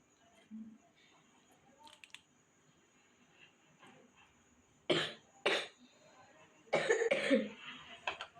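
A few sharp coughs break through a quiet room, spaced apart, followed by a louder cluster of coughing and throat clearing near the end.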